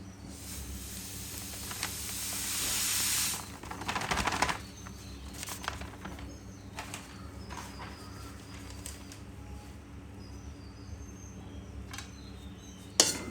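Semolina (rava) dry-roasting in a pan for ladoo, with a soft steady hiss at first, then quiet intermittent scraping and rustling as the grains are stirred, close and faint with no talking.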